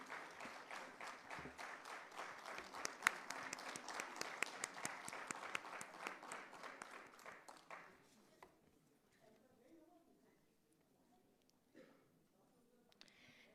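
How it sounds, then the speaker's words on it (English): An award ceremony audience gives a round of applause, sustained crowd clapping for about eight seconds that then fades to scattered claps, with speech in the background. "Everybody, can we have a huge round of applause?"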